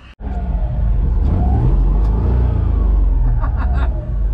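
A Suzuki Cappuccino 660cc turbo accelerates hard on a track, a loud, steady engine drone rising in pitch after a brief dip at the start, heard close up from inside the car.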